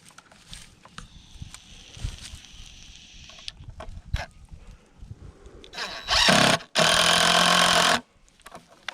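A power tool drives screws while building an outhouse, two loud buzzing bursts near the end after quieter clattering and handling sounds.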